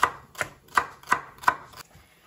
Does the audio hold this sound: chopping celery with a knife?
yes